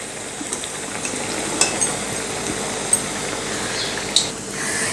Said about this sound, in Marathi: हे वडे छान खरपूस रंग येईपर्यंत तळून घ्यायचे आहेत